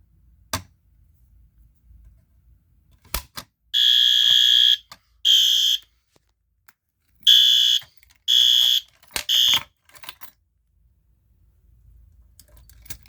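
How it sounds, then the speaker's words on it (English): During a fire alarm system test, a horn blares after the pull station is pulled. It sounds in loud, harsh, buzzing blasts of uneven length, separated by quiet gaps and a few sharp clicks. "But we're just gonna go ahead and pull the fire alarm. The strobe is gonna flash and the horn's gonna go off."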